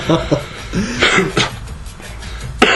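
A few rough throaty coughs and throat clearing, close and fairly loud, mixed in with a person talking.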